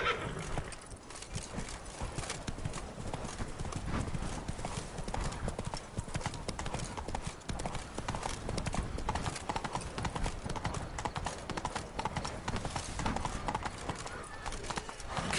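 Horse hooves clip-clop steadily and continuously while riding in The Witcher 3: Wild Hunt, Blood and Wine expansion on PS4, with occasional whinnies, game music and a speaking voice layered throughout.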